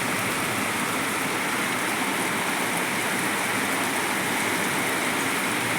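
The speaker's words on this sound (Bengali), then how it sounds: "খুব জোরে বৃষ্টি হচ্ছে" Heavy rain pours down at dawn around five in the morning, a dense, even roar of falling water that holds steady throughout, close and loud with no voices.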